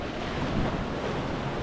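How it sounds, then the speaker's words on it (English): Rough sea surf breaking along the Jersey coast on a very windy day, a steady full-band wash of churning water mixed with gusty wind buffeting the microphone, continuous and fairly close with no voices. "I'm not getting closer because the sea is a little bit rough, and water comes from there"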